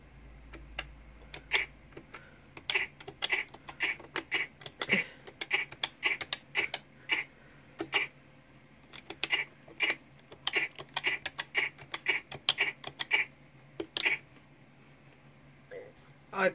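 Keys clack on a 1998 VTech Precomputer Genius keyboard while text is entered in its notepad, short bursts of crisp, close taps in an uneven rhythm with brief pauses, over a faint steady hum.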